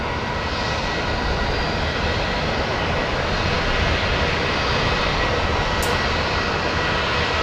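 Aircraft engine noise at Brisbane Airport at night, a loud, steady broadband roar holding throughout as a plane passes close by, with no voices.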